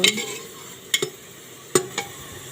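Chili, onion and ginger-garlic paste frying in a pan, stirred in a few sharp scraping strokes over a soft, steady sizzle, heard close up with no talking.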